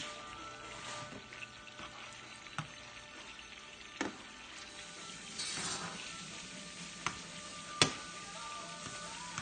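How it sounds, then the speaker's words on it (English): Meatballs browning in a pan, a faint steady sizzle with occasional sharp pops and spatters, quiet and close, no voices. "How are the meatballs looking, Louise? You can hear them sizzling."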